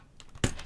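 A keycap pried off a mechanical keyboard with a keycap puller: faint plastic scrapes, then one sharp click as the cap pops free, quiet and close.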